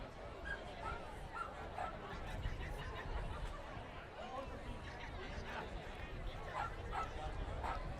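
Dachshunds bark and yip at an outdoor wiener dog race at Fort Erie as dogs line up, a busy layer of crowd chatter and voices running underneath throughout.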